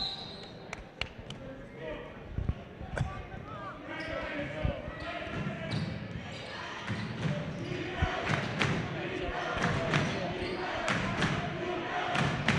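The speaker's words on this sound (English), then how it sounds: "Crowd is really excited for this one." Boys' high school basketball quarterfinal crowd cheering and shouting in a gym, with ball bounces, sneaker squeaks and a commentator talking over the steady roar.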